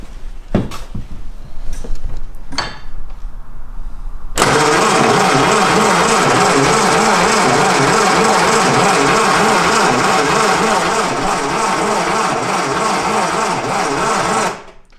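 A Lotus Elan engine cranks over on the starter in a steady rhythmic whirr after a few clicks and knocks, loud and close, continuing for about ten seconds before stopping.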